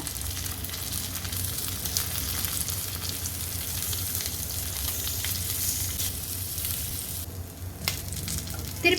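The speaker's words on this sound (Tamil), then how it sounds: "இப்போ எண்ணெயில் சேர்த்துக்கிட்டாச்சுங்க. இப்போ சிம்மில் வச்சுக்கிட்டு டர்ன் பண்ணி விட்டு குக் பண்ணி எடுத்துக்கலாங்க." Spiced corn ribs fry in oil on a low simmer, producing a dense, continuous close sizzle that holds steady throughout, with a few bumps as pieces are turned and no voices.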